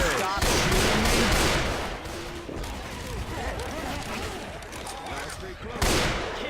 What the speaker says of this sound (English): Y'all wanna stop shooting me?